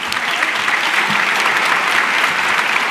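A graduation audience applauds steadily, a dense, even wash of many hands clapping at once that holds for the full stretch with no voices breaking through.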